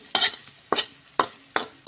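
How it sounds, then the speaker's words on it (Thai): Chilies are stir-fried in a pan, four or five rhythmic scraping strokes of a spatula against the metal, each a short hissing rasp with sizzle, heard close up and alone. "ผัดพริกก่อนนะจ๊าจะได้หอ"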